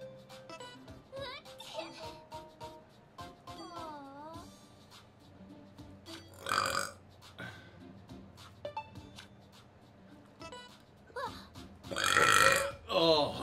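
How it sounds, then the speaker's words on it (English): A man lets out a loud belch after drinking root beer, one of several deep burps and croaks that stand out between his quieter talk, ending in a long, strong belch. "My apologies for the loud belch."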